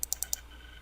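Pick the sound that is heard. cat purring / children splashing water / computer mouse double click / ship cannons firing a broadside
computer mouse double click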